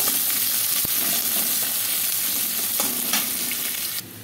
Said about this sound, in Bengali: এবার পেঁয়াজটাকে আমি একটু ভাজবো, একটু ভালো করে ভাজবো।